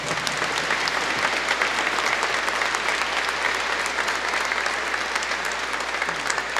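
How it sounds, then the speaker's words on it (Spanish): Sustained, loud applause from a big congregation during a Catholic patronal feast Mass, steady and even throughout with a faint low hum underneath. "yo soy el que pido ahora para él un fuerte aplauso"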